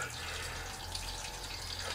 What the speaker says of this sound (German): der Schlauch, der plätschert hier jetzt überall hin und macht den Boden nass.